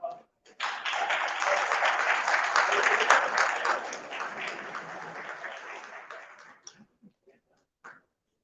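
Audience applause at the inauguration of an international education expo in India, clapping that swells in after a brief pause, holds for several seconds, then tapers off into scattered claps and quiet.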